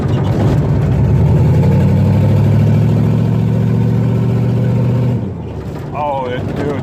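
A 1987 Monte Carlo with a swapped-in 6.2L diesel runs at quarter throttle, a loud steady low engine drone sliding sideways that drops off abruptly near the end.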